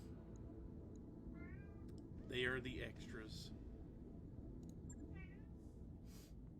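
Cat meows a couple of times, close and moderately loud, over a steady background hum, with someone talking in between.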